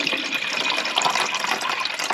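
Water pours steadily from a tap into a pot for grits inside a winter hot tent, producing a continuous close gushing and filling sound heard alone, with no talk.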